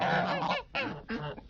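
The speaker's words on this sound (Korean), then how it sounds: "잠시 뒤 농장의 지배계층인 거위 무리가 왔다." A flock of geese on a farm honks loudly and close by in three harsh, overlapping bursts, with no talking.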